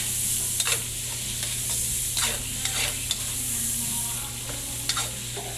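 Fried eggplant sizzles in a pan as it is stirred, with a constant frying hiss, a low background hum and intermittent scraping strokes of the utensil against the pan, close and moderately loud.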